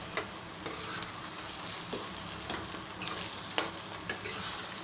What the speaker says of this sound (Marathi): त्याला छान व्यवस्थित फेटत राहायचं आणि पकू द्यायचं